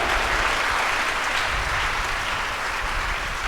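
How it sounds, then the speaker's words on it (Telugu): A church congregation at a Sunday service clapping together, a thick, continuous roar of applause that stays loud and even from start to finish, with no voice standing out. "చప్పట్లు కొట్టి హర్షించండి"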